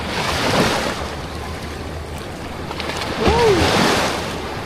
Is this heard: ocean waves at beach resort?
yes